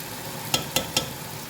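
Chicken pieces frying with sliced peppers in a pan for fajitas, a soft steady sizzle broken by three quick, evenly spaced clatters of stirring.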